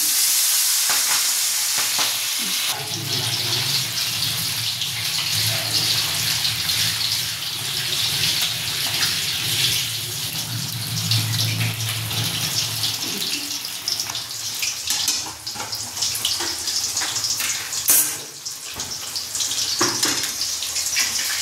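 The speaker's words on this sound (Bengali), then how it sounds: "এবার হালকা করে ভেজে নেব বলে কড়াইয়ে তেল দিয়েছি। হালকা করে ভেজে নিচ্ছি।" Hilsa fish pieces fry in oil in a wok with a continuous hissing sizzle that persists throughout, with occasional clatter as the pieces are moved in the pan.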